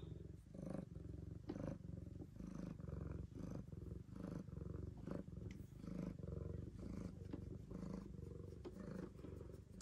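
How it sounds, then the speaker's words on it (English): A black cat's low, rumbling purr pulses steadily up close, rhythmic and continuous, with faint background noise and no talking. "Can you hear her purr?"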